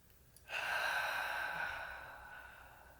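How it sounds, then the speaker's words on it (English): A single deep exhale during meditation, a soft breathy rush that swells after half a second and slowly fades out, close and quiet with no talking. "Another 2 deep breaths."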